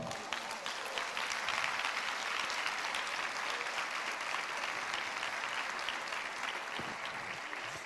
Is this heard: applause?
yes